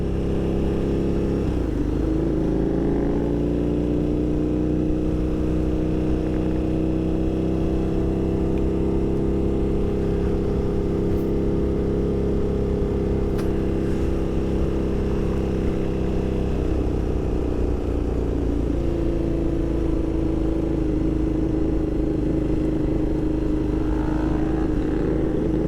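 Motorcycle engine droning steadily while riding on a gravelly road during an end-of-season ride, a continuous close harmonic hum that shifts pitch slightly as speed changes, with road and wind noise underneath.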